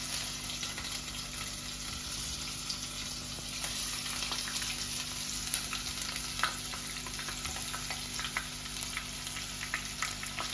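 Onions and curry leaves frying in oil in a pan for upma, a steady close sizzle with faint scraping and clinks throughout, no voices.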